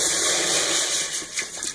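Water pours steadily into a cooking pot on the stove while making yakhni pulao, a broad continuous rushing splash with no talk over it.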